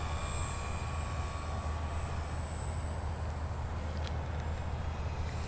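A Dynam P-51 Mustang V2 RC model plane flying slowly on approach, its steady electric motor and propeller drone humming continuously at moderate distance with no speech.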